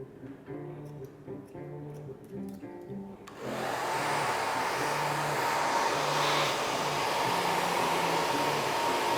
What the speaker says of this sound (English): When you're drying it and you're lifting it up, you can kind of totally see where that shape is.